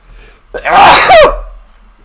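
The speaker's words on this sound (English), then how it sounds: "I gotta sneeze." A single loud, close sneeze from one person: a short sharp intake, then a forceful burst that fades in under a second, with near silence on either side.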